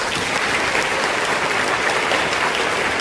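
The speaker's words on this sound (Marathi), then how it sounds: "माझा जोरदार टाळ्या" Loud, dense applause from a crowd of students at a school event, steady and sustained throughout with no break.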